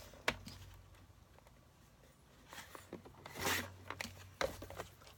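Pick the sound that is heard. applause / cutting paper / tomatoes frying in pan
cutting paper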